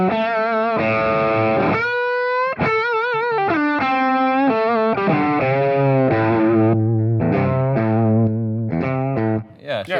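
Electric guitar runs through an overdrive pedal boosting a distortion pedal, giving loud, saturated riffs of sustained notes and chords with brief gaps between phrases.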